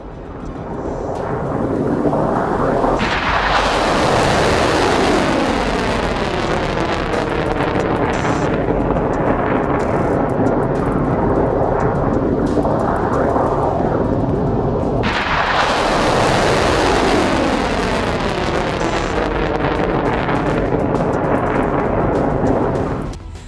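Continuous heavy booming and crackling of air defense fire and missile explosions near a base in Kuwait, loud and sustained throughout with rolling thunder-like blasts and a fresh intense burst partway through, no talk.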